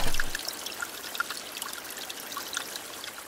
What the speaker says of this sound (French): L'eau déborde et ruisselle tout le long du calan.